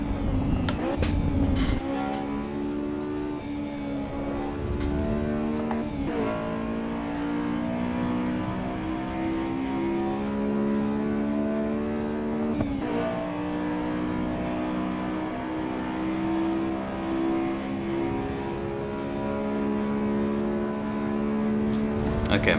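Road car engine at speed on the Nürburgring in the Assetto Corsa EVO racing game, a loud sustained engine drone climbing in pitch through the gears with shift breaks, and a voice talking over it.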